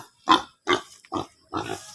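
Goats on a farm in Oriental Mindoro give four short, loud bleats in a row, each a close, separate call with brief gaps between.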